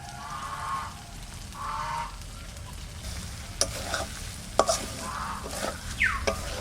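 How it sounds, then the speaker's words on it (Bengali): Fried eggs sizzling in spice masala with released oil for an egg korma, a soft steady frying hiss with a few sharp spoon clinks and stirring scrapes in the second half, close by and moderately quiet. "ভাজা ডিমগুলো দিয়ে দিচ্ছি, মশলা থেকে তেল বেরিয়ে আসছে।"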